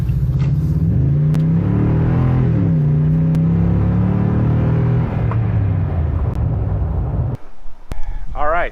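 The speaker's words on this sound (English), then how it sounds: "this is what the TRD dual exhaust sounds like" Inside the cab of a Toyota Tundra V8 with TRD dual exhaust, a deep engine drone rises and falls as the throttle is blipped, then cuts off near the end, with a voice talking over it.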